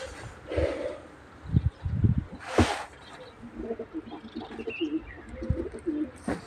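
Soft pigeon coos rumble in low repeated phrases through the second half, with a few louder thumps and rustles earlier.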